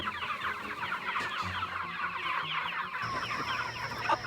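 A flock of eight-week-old broiler chickens clucks and murmurs nearby in a continuous busy chatter, with a higher call joining toward the end.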